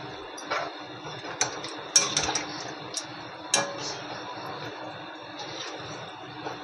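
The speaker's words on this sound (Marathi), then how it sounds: "मी झाकण ठेवलं आहे, ते काढते" A few light metallic clinks and taps of a pot lid being lifted while chicken kharda masala cooks, close and brief, over a steady kitchen hiss.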